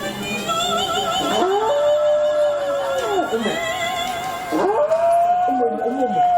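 Office dogs howl together in a loud, close chorus, long wavering tones that rise and fall in several overlapping waves, with a brief dip before a final howl starts up again.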